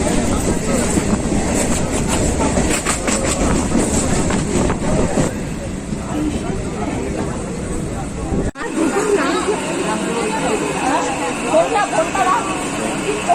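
A Katwa–Howrah local train at Bansberia station rumbles loudly and steadily, with rhythmic wheel clatter and passenger chatter in the carriage; a voice talks over the din.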